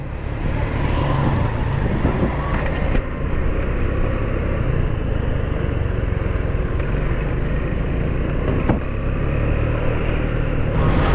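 Dense road traffic with many cars and motorbikes passing, a steady loud roar of engines and tyres close by, continuous and without talk.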